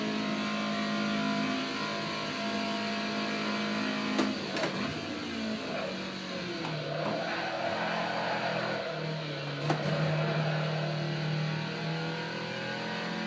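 A Toyota AE86 engine at the Nürburgring in a sim racing game, droning steadily with shifting revs and brief gear-change blips throughout, with no talking.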